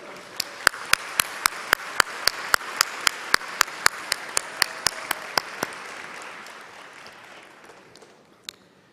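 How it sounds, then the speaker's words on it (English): Graduates at a commencement ceremony give a round of applause, heard as a sharp steady run of close individual claps over a softer crowd wash that thins out and fades near the end. "Graduates, can you please give your program leaders a round of applause?"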